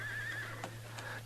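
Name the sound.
horse neighing and hooves in radio drama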